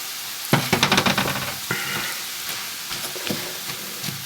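Bacon and mushrooms hit a hot pan with a sudden burst of sizzling and crackling, loud at first and then settling into a steady, quieter fry with a few scattered pops.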